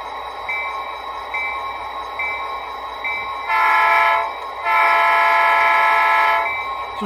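An Athearn Ready To Roll SD40 model locomotive's sound decoder produces rail rumble with repeating clicks, then two loud sustained horn blasts, close and steady.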